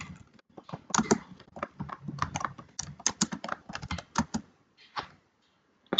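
Fingers typing on a computer keyboard, close and clear, with irregular quick clusters of key clicks and a few isolated taps toward the end.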